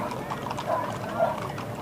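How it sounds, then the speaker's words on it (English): Horses' hooves clip-clop along a street as twelve riders on horseback pass in a July 4th parade, a steady uneven patter of hoofbeats under crowd murmur and voices. "I just love the sound of their hooves"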